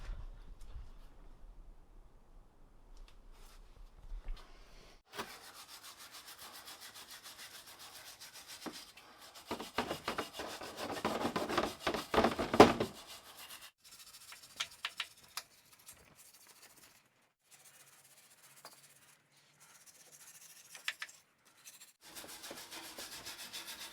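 Steady rubbing and scrubbing on a Hummer chassis during cleaning, close-up scraping strokes that come in bursts with quiet pauses, strongest through the middle, no talking.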